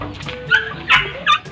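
Askal dogs at home, one of five: three short yips or barks in quick succession, close and fairly loud over a quiet background.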